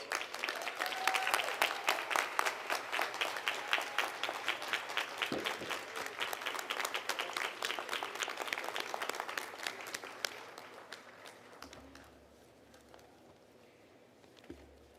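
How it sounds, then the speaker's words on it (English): Audience applause at a spring commencement ceremony, a dense sustained round of clapping from a large crowd that holds steady for about ten seconds before thinning out and fading to quiet room tone. "Please join me in giving Dean Acquah a well-deserved round of applause."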